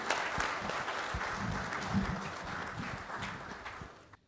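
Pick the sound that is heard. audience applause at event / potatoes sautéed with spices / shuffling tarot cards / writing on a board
audience applause at event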